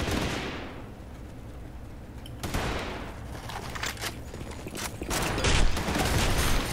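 Shotgun blasts in a video game firefight, several heavy booming shots spaced irregularly over a continuous noisy backdrop of gameplay, with the loudest burst near the end.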